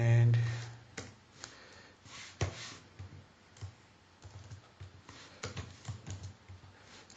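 Someone types on a computer keyboard, quick close clicking keystrokes in irregular bursts with short pauses, quiet and near, with a brief voice at the start.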